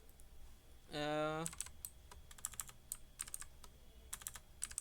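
Quick irregular keystrokes clatter on a computer keyboard while a selection sort program is typed, after a brief tonal beep near the start; the tapping is close but fairly soft.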